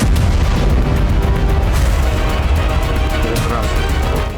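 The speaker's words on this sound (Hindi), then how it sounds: "पता चला बेलबेक एयरफील्ड पर भी धमाके हो रहे हैं" Explosions at Belbek airfield in Crimea: a dense, loud, continuous rumble of blasts with overlapping bursts and booms, sustained throughout without pause.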